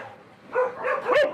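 Several dogs bark and yip in quick bursts at a crowded dog farm where puppies and adult dogs are kept in cages, fairly close and growing louder toward the end.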